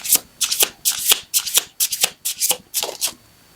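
Tarot cards being shuffled by hand in a series of quick riffling bursts, about ten crisp papery flutters with brief pauses between, close and clear with no talking.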